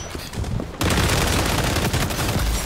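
Gunfire in the video game XDefiant erupts as a dense, loud fusillade of rapid shots, continuous and close, with no talking.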